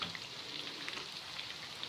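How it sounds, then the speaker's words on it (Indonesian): Steady crackling sizzle of spice paste frying in hot oil, close and continuous with a dense hiss and scattered pops. "Dan gunakan minyak ini untuk menggoreng bumbunya."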